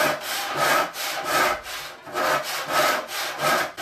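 Hand rip saw cutting along 2-inch thick wood, loud close rasping strokes in a steady back-and-forth rhythm of about seven pushes and pulls, with no voices.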